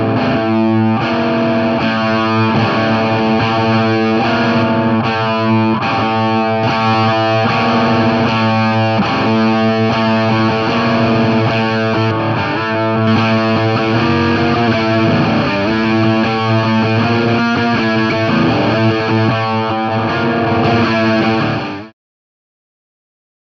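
Electric guitar played through a Greedtone OverDrive II pedal into a Marshall amp with gain turned all the way down, producing continuous loud driven chords and notes for about twenty seconds before stopping abruptly.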